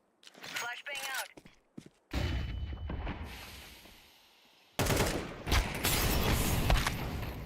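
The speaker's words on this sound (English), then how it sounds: "Flashbang out." A flashbang grenade detonates in Counter-Strike 2 with a sharp blast and a ringing, noisy wash of sound that fades, followed by a second burst of gunfire-like noise, with brief voice and footstep sounds before.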